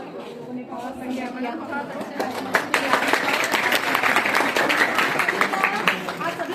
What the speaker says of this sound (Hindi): चलिए जोरदार ताली लेते हैं